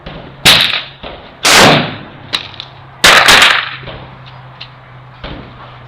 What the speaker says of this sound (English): I'm going to take one more shot at the bullseye and give it another chance.